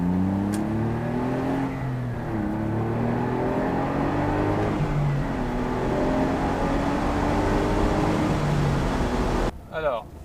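A Smart Roadster Brabus coupé drives along with its engine droning and shifting pitch as it downshifts and revs, heard from inside the car while someone talks over the steady engine note.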